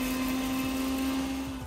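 Mixer grinder blitzing dry rasam spices with a handful of garlic into powder, a steady loud motor whine held throughout with a constant high tone, no voices.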